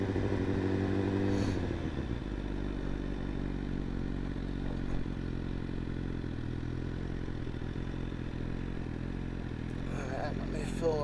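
A motorcycle engine rumbles steadily up close as the bike rolls into an Exxon gas station, with clattering and scraping noises layered over the low drone.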